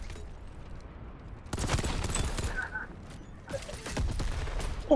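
Gunfire from above in the shooter Exoborne, starting as sudden loud bursts of shots after a quieter lull and returning in a second volley, with low background game noise and brief speech.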